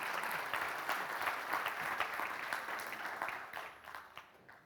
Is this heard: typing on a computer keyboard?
no